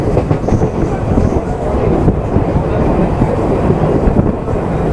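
Local passenger train from Howrah heading onto the Digha line, heard from inside the carriage at good speed; a loud, continuous rumble of wheels and rails with rhythmic clatter and no break.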